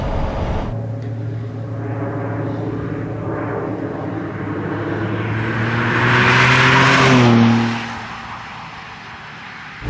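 A 1993 Jaguar XJ220 sports car engine drones steadily, then revs harder and climbs in pitch before easing off abruptly near the end; no voices.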